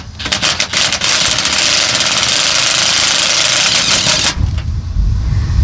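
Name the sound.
impact drill lowering RV spare tire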